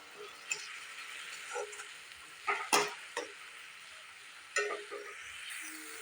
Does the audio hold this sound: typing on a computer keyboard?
no